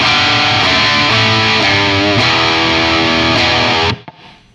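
A heavily distorted electric guitar through an ENGL E670 Special Edition tube amp with mid boost on rings out loud and sustained with a thick midrange, a few chord changes, then cuts off abruptly near the end.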